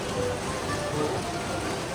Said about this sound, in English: as you can hear, it is raining a lot.